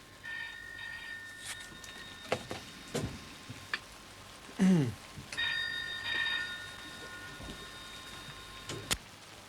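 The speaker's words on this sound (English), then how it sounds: "Hear that phone? You couldn't help but hear it" A telephone rings in short bursts over a steady hiss of rain and static, with scattered crackles and pops between the rings at a moderate distance.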